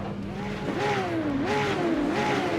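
Several race cars accelerate off the line at the Nurburgring in a racing video game, steady loud engine drone with rising revving pitches sweeping up and down across the whole stretch.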